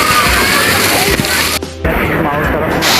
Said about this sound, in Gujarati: સરસ મજાનું અહીંયા પાણી પણ પડી રહ્યું છે.